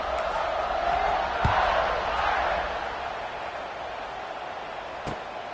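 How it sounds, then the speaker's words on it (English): A football stadium crowd at a college game buzzes after a score, a steady broad roar of many voices with a couple of sharp thumps standing out, sustained and fairly distant-sounding throughout. "this crowd is buzzing after that last score"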